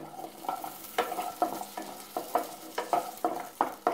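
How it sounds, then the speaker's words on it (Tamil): Shallots sautéing in a little oil in a pan for Erode coriander chutney, with regular scraping stirs every half second or so over a soft, steady sizzle, close and clear with no talking. "இதே பாத்திரத்தில் கொஞ்சமாக எண்ணெய் ஊற்றி சின்ன வெங்காயம் போட்டு வதக்கிக்கலாம்."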